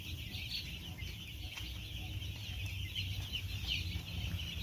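Poultry chicks, a flock of about 2,800, cheeping at a chicken farm, with a steady dense chorus of high peeping over a constant low hum, close and continuous.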